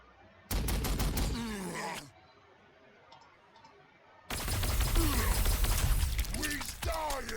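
Gunfire from the Warhammer 40,000: Sanctus Reach video game comes in two loud sustained bursts of rapid rattling shots with clicks and mechanical clatter, separated by a quieter gap.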